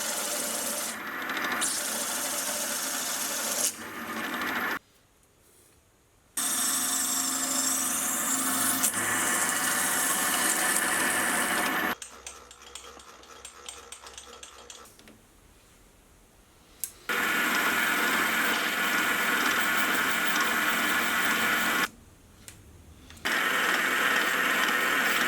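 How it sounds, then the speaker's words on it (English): A boring head cuts bearing holes in a metal part on a milling machine for a model automatic gearbox, giving a steady, bright scraping whir in long passes broken by short quiet pauses. "I'll come in with a boring head to make the holes for the bearings"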